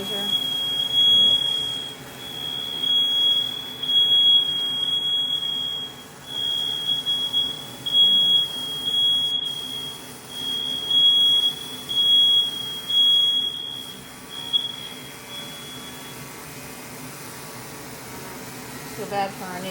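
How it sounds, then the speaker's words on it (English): A smoke alarm shrills in a high, piercing tone, pulsing in repeated bursts over a steady mechanical hum from machine cutting of brass, with voices talking underneath. "Smoke detector's going off."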